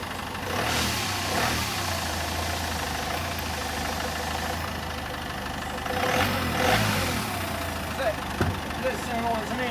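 A 2018 Peugeot Boxer van engine with an air leak runs steadily at a low rumble, with a continuous hiss over it and a few louder surges; voices are faintly present.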